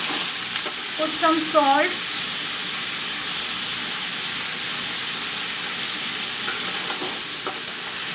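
Brinjal and potato fry in a pan with a steady, close sizzle and a few stirring scrapes near the start, while a voice speaks briefly over it.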